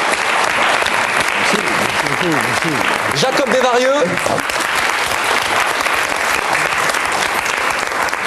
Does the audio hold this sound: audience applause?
yes